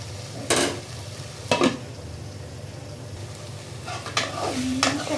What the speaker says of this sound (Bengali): একটু ভালো করে কষাইতেছি বন্ধুরা।